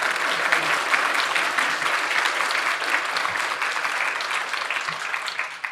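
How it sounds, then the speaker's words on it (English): A seated audience gives a sustained, even round of applause to welcome Judge Susan Crawford at an interview event. The dense clapping lasts about six seconds without a break and no one speaks over it. "If you can give her a round of applause"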